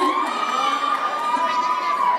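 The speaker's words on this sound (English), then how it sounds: "if you can make a crowd react like that so ferociously" Crowd cheering and shouting together in a dense, sustained roar, loud and continuous throughout, with excited voices mixed into the noise.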